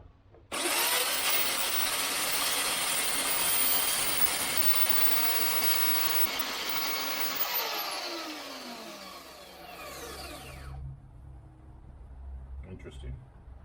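A VEVOR portable band saw starts up and runs loud and steady for about ten seconds, cutting wood held in a vise, then winds down; a low hum and some faint background noise follow.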